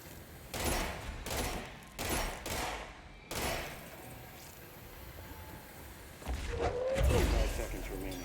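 Bursts of gunfire on a shooting course in the video game Control, several sharp volleys in quick succession, then a long pause and a final louder burst, with a voice speaking between the shots.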